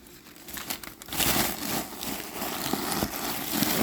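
Paper stuffing crinkled and pulled out of a Dooney & Bourke handbag during an unboxing, close rustling and crumpling that grows louder and continues steadily.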